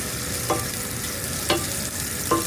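Garlic and ginger sautéing in a pan: a steady close sizzle runs throughout, broken by three sharp utensil scrapes or clinks spaced about a second apart, with no voices.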